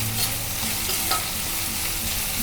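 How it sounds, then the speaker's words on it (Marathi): Finely chopped onion goes into a pan of garlic fried reddish for Kolhapuri sprouted matki usal, raising a loud, steady sizzle with continuous stirring and scraping throughout, no voices. "आता मी कांदा टाकून घेते"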